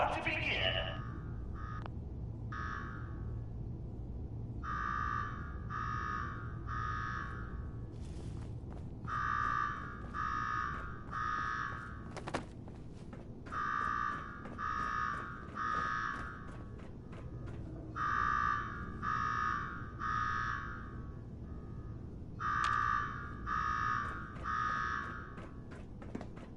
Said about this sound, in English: Now go shut off that damn alarm.